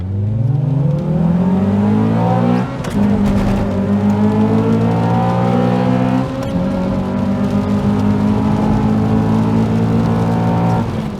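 A Toyota Celica 1.8 and a Honda Accord 2.4 with i-VTEC and VVTL-i engines accelerate hard side by side in a race, loud engines climbing through the revs with brief drops at gear changes.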